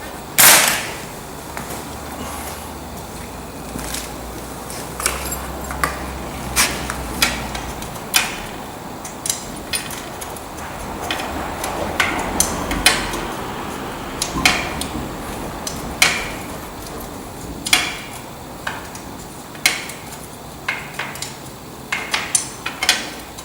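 Hand spanner work on a Ferguson TEA tractor during an overhaul, scattered sharp metallic clicks and ratchet ticks at an uneven pace over a steady background hiss, fairly close, with no talking.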